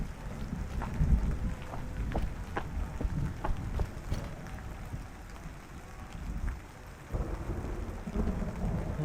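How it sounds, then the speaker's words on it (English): Steady rain pours down in a thunderstorm, with low rolling thunder rumbling beneath the hiss and scattered raindrop taps, continuous and fairly loud throughout. "It's raining already."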